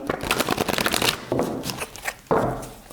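Tarot cards shuffled by hand before a reading, a quick run of crisp papery riffles and slaps, close and fairly loud, ending in a sharper burst of card noise.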